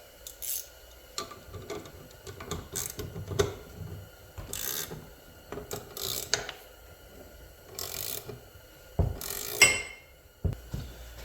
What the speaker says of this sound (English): I'm just going to wrench on this thing with my harmonic balancer and see if she'll pop.